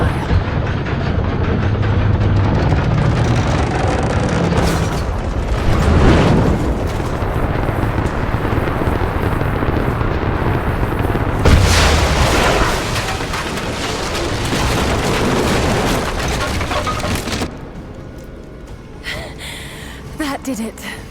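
Catapult firing in the Rise of the Tomb Raider video game: loud, dense booming and rumbling game sound effects, with a heavy burst near 5 s and another near 11.5 s, continuing as a sustained roar before fading.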